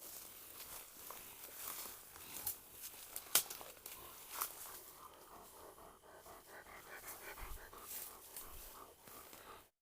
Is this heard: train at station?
no